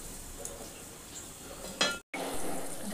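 Taro and spinach frying softly in a pan with a low sizzle and a few light clinks of a stirring utensil, quiet and close, broken by a brief gap of silence.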